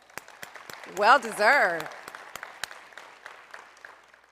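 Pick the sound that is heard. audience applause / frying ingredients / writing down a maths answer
audience applause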